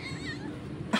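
A cat gives a single short meow near the end of a second of quiet room tone, close and fairly soft.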